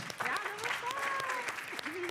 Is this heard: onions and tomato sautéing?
no